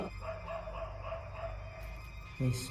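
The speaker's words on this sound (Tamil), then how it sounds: "நாய் வேறு கண்டினியூ குறைச்சினே இருக்குது." A dog barks somewhere in the background, a few muffled, steady barks at moderate distance with one louder burst near the end, over a constant low hum and no one speaking.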